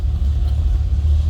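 A 1960 Buick Invicta Custom Convertible's 401 V8, paired with an automatic transmission, idles steadily as a deep, continuous low rumble, close and fairly loud, with no talk over it.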